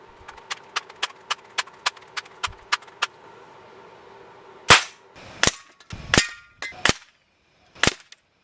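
A Daisy 880 air rifle fires flat-nosed pellets: a run of about a dozen quick, evenly spaced light clicks, then five sharp, loud reports at irregular intervals, close by and with no talk.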